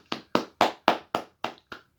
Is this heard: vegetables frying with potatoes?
no